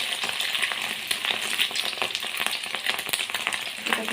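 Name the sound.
fish egg pakoras frying in hot oil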